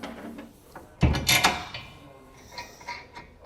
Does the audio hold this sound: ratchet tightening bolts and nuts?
yes